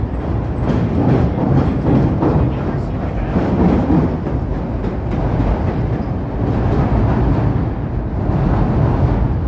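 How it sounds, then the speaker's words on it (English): A Chicago CTA Brown Line elevated train heads into the Loop, a loud, steady rumble and roar that holds for the whole stretch, heard from street level. "Brown line heading into the loop here."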